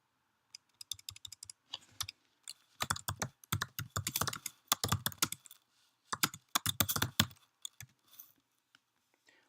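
Close, crisp keystrokes on a computer keyboard come in quick irregular bursts separated by short pauses, with no talking over them.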